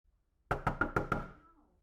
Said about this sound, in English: there was a firm knock on her door in a playful galloping pattern